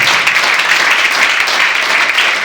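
Loud, dense applause fills the room at the Les Afriques 2021 literary prize ceremony, a continuous wash of many hands clapping steadily with no pauses.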